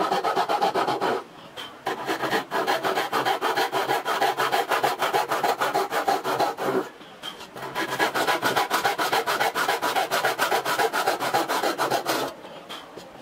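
A Hasston hand saw cuts through plywood in steady, fast back-and-forth rasping strokes, close and loud, with two brief pauses between runs of sawing.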